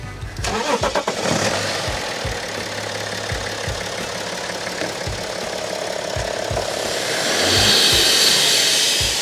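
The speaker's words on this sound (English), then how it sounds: "All right, Pat, fire your car up." A car at the BimmerWorld shop, during a fuel-system chemical cleaning service, cranks briefly and catches, then settles into a loud, close, rough idle. The revs swell slightly near the end.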